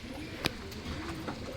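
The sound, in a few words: pigeon cooing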